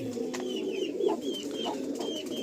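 A male old-line Madrasi pigeon coos in a continuous low, throbbing drone, close and steady, with faint high chirps from other birds scattered through it.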